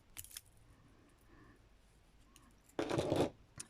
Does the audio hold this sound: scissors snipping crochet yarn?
yes